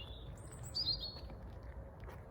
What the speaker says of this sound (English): So to the bird song and the background drone of aircraft at Manchester Airport.